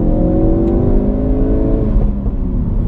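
Ford Focus RS accelerating hard in second gear, a loud close engine note climbing steadily in pitch across the pull, with faint crackles from exhaust pops near the end.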